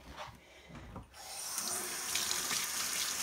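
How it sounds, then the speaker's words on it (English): A kitchen tap runs while hands are washed beneath it, a short splash and rustle, then a steady rushing stream of water into the sink, close and moderate. "I'm going to wash my hands real quickly."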